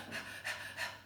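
Three quick, breathy pants in a row, a human voice mimicking a dog's panting, soft and close with an even rhythm.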